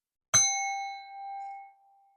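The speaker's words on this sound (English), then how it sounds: "Here comes the bell." A single bell is struck once to open a tarot reading, giving a clear, bright ding that rings out and slowly fades over about a second and a half in otherwise silent surroundings.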